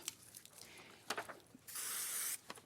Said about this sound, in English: So I'm just going to use a bit of spray glue.